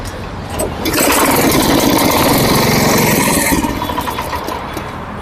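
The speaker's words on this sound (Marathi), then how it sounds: "एकदा हे मशीन चालू करू" An all-in-one power weeder rotavator's small petrol engine runs loudly and steadily for about three seconds outdoors on a farm, then eases back toward idle.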